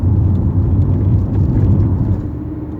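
A manual-transmission car engine revving as it is worked through the gears, a loud low rumbling drone that swells and dips slightly while heard from inside the car, with no talk.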